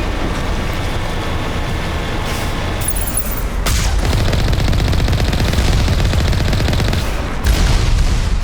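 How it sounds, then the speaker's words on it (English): Enemy gunfire in the video game Mass Effect, on the Asteroid X57 mission, comes as sustained loud rapid bursts with booming impacts, continuous and close, with no talking. "They shoot pretty fast."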